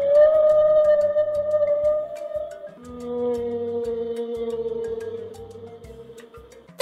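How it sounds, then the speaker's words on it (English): A whale sings in long, sustained tonal moans that slide downward in pitch, with one call giving way to a deeper second tone against a faint ambient backdrop. "That's a whale!"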